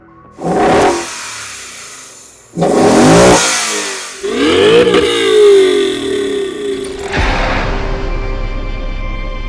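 A 220,000-mile Mercedes-AMG E55 W211 with a supercharged V8 revs hard in several loud, close bursts, each climbing and falling away, ending in a lower steady idle.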